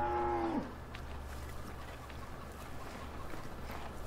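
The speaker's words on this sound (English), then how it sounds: "There's our girls grazing in their little tiny bit of a field. Poor cows." A single cow moos briefly at the start amid a steady engine-like hum and ambient farm noise in Farming Simulator 15, with cattle grazing in a small field; the moo fades quickly, leaving continuous background drone.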